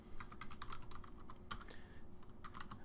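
Fingers tap quickly on a computer keyboard while writing Lua code for Roblox, irregular soft clicks in short bursts, faint and close with no talking.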